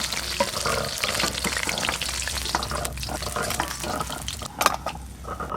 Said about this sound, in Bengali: মাছগুলো বেশ ভালো করে ভাজা ভাজা হয়ে গেল।